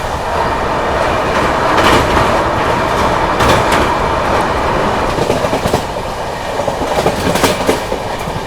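The Maharashtra Sampark Kranti Express runs at speed near sunset, a loud, continuous rumble of rolling wagons with rhythmic clickety-clack from the wheels over rail joints and occasional sharper metallic bursts, with no voices.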